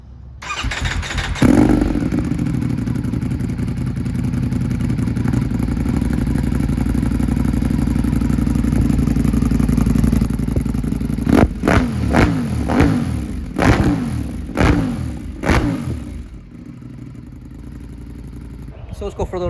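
Ducati V4S motorcycle with open exhaust baffles revving nearby: a steady loud idle rumble, then a series of sharp throttle blips in quick succession that rise and fall before settling back down.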